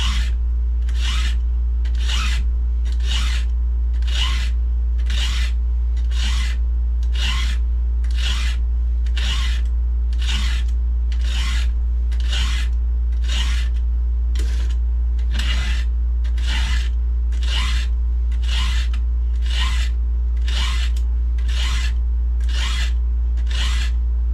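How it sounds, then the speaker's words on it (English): Hand file sharpening a 36-inch Archer chainsaw chain: rhythmic rasping strokes, about twenty evenly spaced, close and crisp over a constant low hum, no speech. "Just sharpen a chain"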